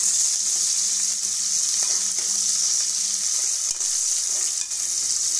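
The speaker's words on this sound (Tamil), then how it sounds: "நல்லா வதக்கி விட்டுக்கலாம்." Curry leaves sauté in hot oil in a pan for a fish curry, giving a continuous bright sizzle with occasional stirring scrapes, close and steady throughout with no speech.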